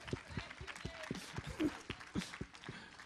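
A church congregation claps in bursts of uneven hand claps, with voices and cheers mixed in throughout.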